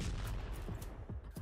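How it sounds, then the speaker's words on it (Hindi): A drone strike on soldiers in the war in Ukraine brings a dull, muffled blast followed by low rumbling thuds and crackling, distant and fairly faint. "फिर होता है जबरदस्त धमाका"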